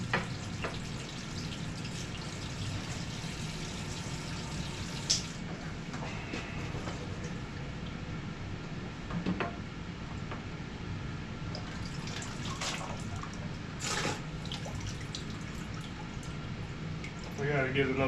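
Water poured from a bucket into a fish aquarium being upgraded from 55 to 75 gallons, a continuous splashing gurgle with occasional louder sloshes, while people talk over it.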